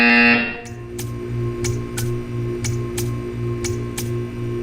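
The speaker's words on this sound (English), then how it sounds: "You will hear a buzzer." A buzzer in the video game Portal 2 drones steadily after a brief high tone, with a regular pulsing buzz and evenly spaced sharp ticks roughly every half second, loud and alone.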